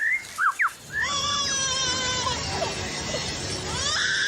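A lyrebird mimics a baby's cry, giving rising and falling wails followed by a sustained crying call with harmonics that is loud and close, broken near the start by brief squeaky chirps.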